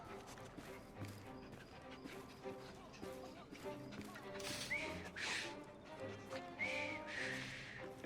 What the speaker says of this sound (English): Who is whistling?